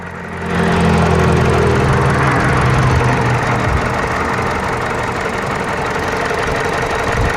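A 2007 Mini One 1.4 petrol engine rated at 95 horsepower, about 119 thousand km on the clock, catches in the first second and then idles loudly and evenly nearby with a steady, slightly rattly drone.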